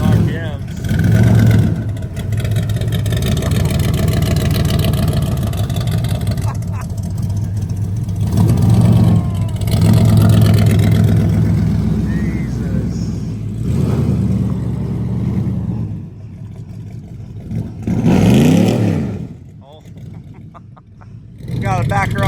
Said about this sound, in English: The whole bed's rattling, so ready to hear this thing get up in RPMs.